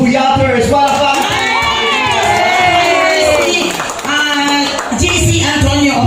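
A crowd of supporters at a fan get-together claps and cheers loudly, with excited shouts and whoops rising over continuous hand clapping, and voices of children and adults mixed in.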